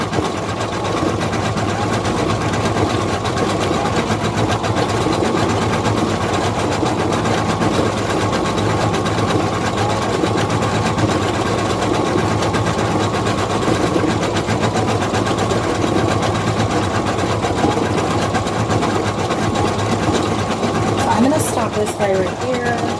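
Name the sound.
embroidery machine stitching a felt giraffe mask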